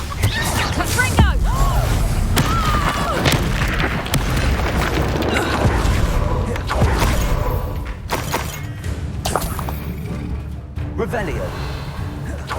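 A Confringo blasting spell explodes during Hogwarts Legacy combat, giving a loud booming blast amid dense, continuous game noise and effects, with a voice shouting over it.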